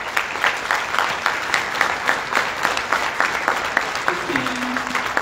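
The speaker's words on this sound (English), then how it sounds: "Please give them a round of applause." An audience at an Urban League diversity and inclusion symposium claps steadily, a sustained ripple of applause from many hands filling the room, with a brief voice near the end.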